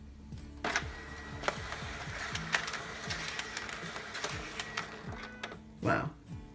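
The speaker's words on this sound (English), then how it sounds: "There are two ways you can start the scan, either pressing the blue button on the machine itself or on the app." A Fujitsu ScanSnap iX500 document scanner feeds a page with a steady mechanical whir and repeating motor ticks, close by, ending in a louder rustling swell as the sheet exits.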